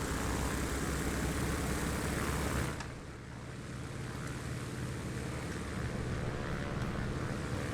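A Spartan Executive propeller aircraft engine in Microsoft Flight Simulator 2024 drones steadily at idle, a dense continuous hum that dips slightly in intensity partway through.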